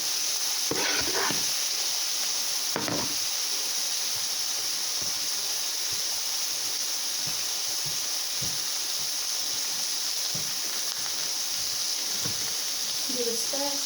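Meat sizzling steadily on a griddle for Philly cheesesteak, a constant broadband hiss with scattered clicks and scrapes of a spatula, while a person talks intermittently nearby.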